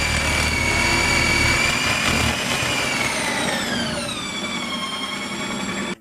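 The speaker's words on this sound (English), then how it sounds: "it's already starting to spin, so it's really noisy" A loud, steady mechanical whine with high tonal harmonics that slowly glide downward, an ice cream maker spinning continuously up close, no talking.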